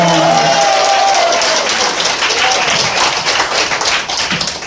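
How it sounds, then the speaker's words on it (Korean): A crowd at a political candidacy rally claps loudly and continuously. The close, dense applause has scattered shouts mixed in and fades slightly at the end. "박수 한번 하겠습니다"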